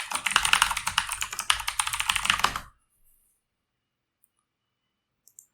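Rapid, steady clicking of a computer keyboard as a login email and password are typed, close and crisp for under three seconds, then near silence with a couple of faint ticks.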